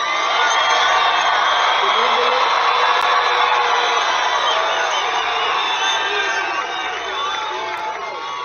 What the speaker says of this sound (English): Do you hear that crowd back there?